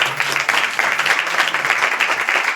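Church congregation clapping hands at a Christian sermon, a steady dense patter of applause sustained throughout, fairly loud with no talk over it.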